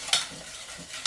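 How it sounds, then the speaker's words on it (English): Cranberry sauce with warming spices being stirred in a pot: a short, close scrape of a utensil at the start and another at the end, over a soft bubbling simmer. "And then we'll just give it a little stir."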